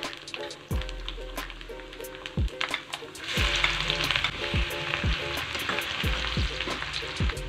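Garlic sizzling in a hot frying pan while cooking bihon guisado with annatto powder, a steady crackling fry punctuated by repeated spatula scrapes against the pan.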